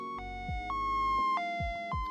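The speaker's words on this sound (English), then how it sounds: "ambulance" An ambulance siren effect alternates between two tones in a quick hi-lo pattern, clear and steady with nothing else behind it.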